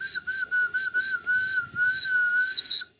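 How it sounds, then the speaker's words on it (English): A small steam locomotive whistle blows a steady high-pitched tone at very low pressure for about three seconds, with faint puffing underneath, close by. "the whistle blows quite well at very low pressure"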